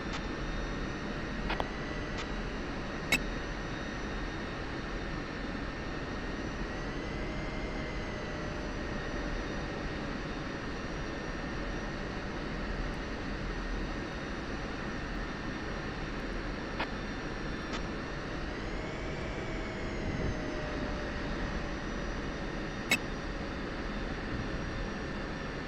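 Jet aircraft taxiing in the DCS flight simulator, a steady low engine rumble with a sustained whine that rises slightly twice, continuous and close, broken by a few faint clicks, with no talking.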